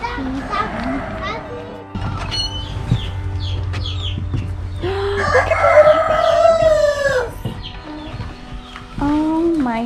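Chickens cluck and crow nearby amid a busy farmyard, with children's voices and adult talk mixed throughout.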